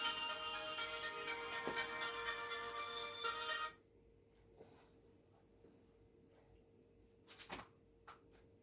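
A mobile phone ringtone plays loudly at a church Easter sermon, a bright, dense melodic tone lasting a few seconds before it cuts off abruptly, leaving quiet room tone with a couple of faint knocks.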